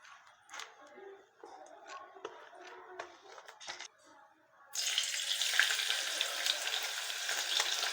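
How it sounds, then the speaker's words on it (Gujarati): Green chillies frying in hot oil on a stove: a faint scattering of crackles and clinks first, then a loud, steady, close sizzle that swells up and holds to the end. "મરચાં પણ આ બાજુ તળાઈ ગયા છે"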